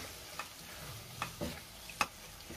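Spoon scraping and stirring masala with salt and kasuri methi in a pan for pav bhaji, a few distinct close scrapes and clinks over a soft sizzle, no talking.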